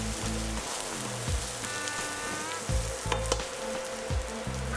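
Sliced onion sizzles in hot oil in a pan for a pinakbet dish, a steady crackling fry broken by rhythmic scraping stirs and a few clinks, close and fairly loud with no voices.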